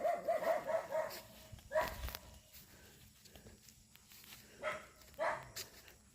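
Dogs bark in short bursts at a moderate distance, a quick cluster first, then scattered single barks with quiet gaps between.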